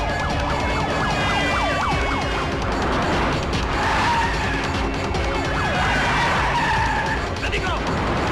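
A car skidding to a halt in a Hindi film scene, loud continuous screeching tires over a dense mix of music and effects, with sweeping siren-like tones and some voices.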